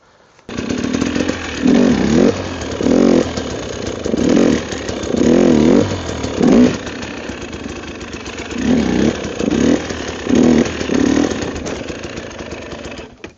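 A motorcycle engine in snow revs in repeated throttle bursts while the clutch is worked, rising and falling roughly every second or two between quieter idling, loud and close.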